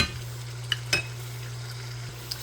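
Shrimp for gambas al ajillo sizzle softly in a pan with a low steady hum beneath, and a few sharp stirring clinks cut in.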